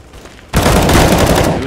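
Counter-Strike: Global Offensive gunfire, a sudden loud burst of rapid shots that starts abruptly after a quiet moment and continues as dense, sustained firing.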